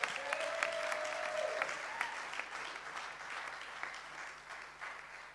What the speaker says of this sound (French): on peut les applaudir et les remercier de la présence?